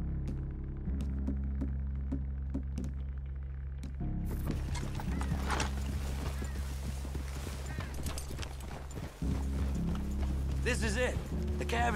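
Horses' hooves clip-clop in Red Dead Redemption 2, a steady, fairly quiet plodding rhythm over a low ambient hum, joined midway by rustling movement, with people talking throughout.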